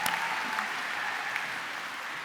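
Graduation audience at an art college ceremony applauding faculty and staff, a steady wash of applause from a large crowd, moderately distant and even throughout.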